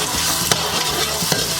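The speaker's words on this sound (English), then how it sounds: "And we're gonna give it a stir." A pot holding garlic powder and a packet of sazon being stirred, a loud, dense, close sizzle with two distinct spoon clanks against the pot.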